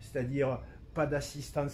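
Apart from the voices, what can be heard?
No distinct noise like a dog, phone or traffic.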